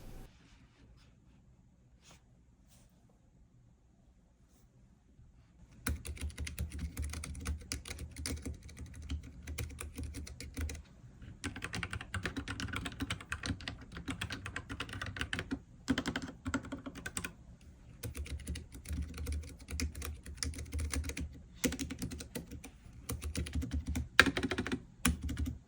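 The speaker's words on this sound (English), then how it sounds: "I think a typical brown switch should have clear response like this one instead of being too mushy or too crisp like a blue switch" Typing on a portable mechanical keyboard with brown switches, with rapid continuous clacking keystrokes after a quiet start, close and moderately loud with no talking.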